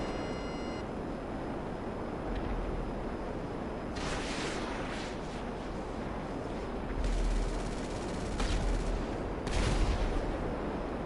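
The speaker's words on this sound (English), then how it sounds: "I'm getting shot with rockets" Gunfire and rocket blasts aimed at a player in Grand Theft Auto, coming as several loud broadband bursts over a steady background of game noise, with no talk.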